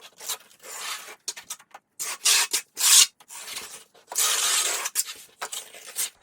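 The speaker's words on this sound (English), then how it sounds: "as I'm taking my trowel across, I'm pushing on the back side here" A steel trowel drags floor leveling compound across a low spot in a floor, giving repeated short gritty scraping strokes with brief pauses between passes, close and fairly loud.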